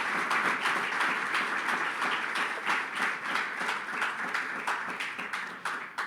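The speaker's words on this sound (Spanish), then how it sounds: "¿Cuántos le dan un aplauso al Señor?" Sustained applause from a church congregation fills the room, a dense, steady wash of many hands clapping at moderate distance, with no talking over it.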